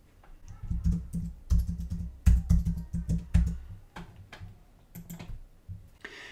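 A username and password are typed on a computer keyboard, with close, irregular bursts of clicking keystrokes separated by short pauses.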